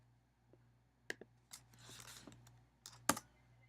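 Quiet keystrokes on a computer keyboard as a telnet command is entered, a short irregular run of taps with one sharper final key press, close and alone.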